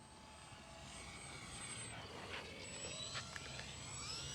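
An E-flite Valiant V2 RC model airplane with a 1.3 m span flies by outdoors, its electric motor and propeller giving a steady buzzing drone that swells slightly as it passes, fairly distant.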